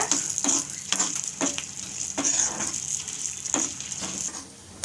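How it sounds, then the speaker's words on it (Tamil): Lentils and dried red chilies roast in a pan for a ridge gourd and peanut dish, giving a light hiss with repeated scraping stirs at a close, even pace. No voices are heard. "பருப்பெல்லாம் கொஞ்சம் வறுபட்டு வரட்டும் செவக்க"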